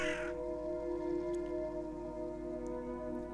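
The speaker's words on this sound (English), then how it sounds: "I just saw a crow, right? It was on the car." A crow caws in the video game The Silent Swan, a few faint, brief calls over a steady low ambient drone with sustained tones.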